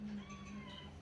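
Several cats in a crowded household, one a three-month-old kitten; a single short meow rises clearly and close over a background hum, with faint room noise around it.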